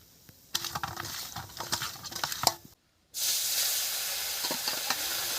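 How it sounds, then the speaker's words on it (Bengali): Fish rubbed with chili powder, turmeric and salt frying in hot oil, crackling and spattering near and clear, a brief pause, then a steady loud sizzle as more pieces go in. "অল্প অল্প করে ভেজে নেব।"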